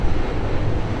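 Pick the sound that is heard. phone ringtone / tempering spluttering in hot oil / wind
wind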